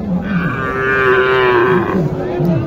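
A crossbred Sahiwal and Holstein Friesian bull at the Mataji cattle market in Naogaon gives one long, loud, close moo that holds steady for about two seconds over faint background bustle.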